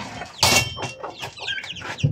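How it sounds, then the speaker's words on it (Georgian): A brooding hen clucks close by among her chicks, with soft peeping and short clucks in a quick irregular patter over about two seconds. "ეხლა უნდა განახოთ ჩემი კრუხი თავის წიწილით."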